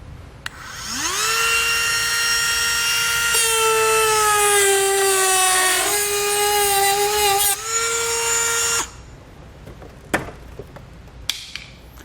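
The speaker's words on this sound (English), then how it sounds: "We're going to be using a cutoff wheel to cut these out." A cutoff wheel cuts the tabs off an absorption pad while a Roadmaster Direct-Connect base plate kit is fitted to a 2016 vehicle. The high whine spins up, holds for about eight seconds, winds down, then a few sharp clicks follow.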